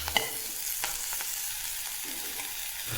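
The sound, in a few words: sautéing masala with red chilli powder and turmeric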